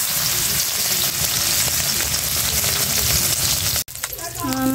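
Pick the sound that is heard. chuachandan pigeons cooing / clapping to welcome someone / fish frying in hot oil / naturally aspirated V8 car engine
fish frying in hot oil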